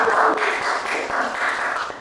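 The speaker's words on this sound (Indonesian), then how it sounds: "Tepuk tangannya ndak ikhlas Namin" A small group of people clapping briefly and without much enthusiasm, a short loose patter of hands at close range.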